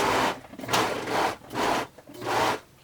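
A serger sewing machine stitches along a fabric corner in four rhythmic bursts of close, buzzing whirring separated by short pauses, with no talking.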